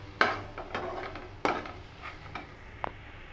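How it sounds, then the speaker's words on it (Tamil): Ingredients for a chutney sautéing in a pan, with a soft steady sizzle beneath several clear scrapes and taps of a spoon against the pan, close and fairly quiet, with no talking. "இப்போ வதங்கிட்டுருக்கு, பாதி வதங்கிருச்சு"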